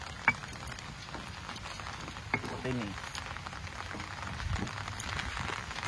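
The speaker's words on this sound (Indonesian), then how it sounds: "Hujan di tepi sawah." Rain falls beside a rice field as a steady, dense patter and hiss of drops on surfaces, with a couple of sharper knocks and brief talk over it.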